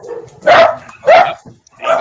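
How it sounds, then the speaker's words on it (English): Dogs barking in three loud bursts, each a cluster of sharp barks with yips, separated by short pauses, close by and with no talking over them. "the dogs are always barking"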